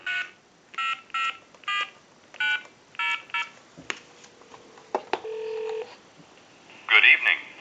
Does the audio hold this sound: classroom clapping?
no